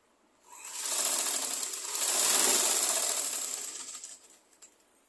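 A sewing machine stitches the inner edge of a skirt (pavadai), running as one close, steady mechanical whir for about four seconds before it slows and stops with a few ticks.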